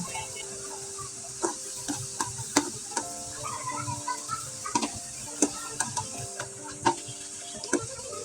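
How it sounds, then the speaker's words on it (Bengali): Rice flour nakshi pitha frying in hot oil, a steady sizzle broken by scattered sharp pops and crackles, with faint clicks from handling the pan. "এখন আপনাদের তেলে ভেজে দেখিয়ে দিচ্ছি"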